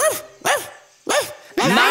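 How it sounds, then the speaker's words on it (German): Several loud, close dog barks from a children's farm song, four separate sharp yelps in an uneven rhythm with short silent gaps between them and nothing else around. "das ist ein Hund"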